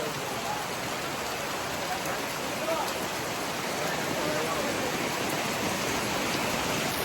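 Heavy rain pouring during the Kumunda Ratha Jatra festival, a dense, loud and continuous hiss with no pauses, steady from start to end.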